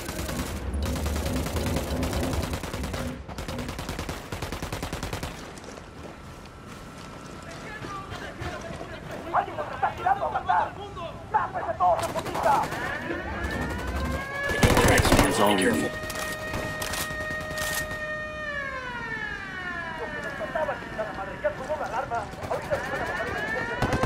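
Gunfire in the tactical shooter game Ghost Recon Wildlands on extreme difficulty: dense bursts of automatic fire and repeated shots mixed with sirens and engine noise, loud and continuous, with voices calling out over it.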